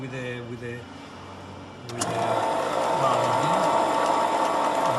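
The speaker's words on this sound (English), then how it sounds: "Now my colleague is going to start the machine. First, we're going to start the machine with the valve." Kwik-Way SVSD valve refacing machine switching on with a sharp onset about two seconds in, then running with a steady mechanical whir and grinding hum, with talk over the quieter opening.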